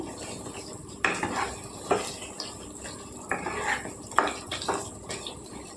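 Fry piece curry being stirred in a pan with a spoon, scraping and clinking against the metal in irregular bursts over a low kitchen background, with no talking.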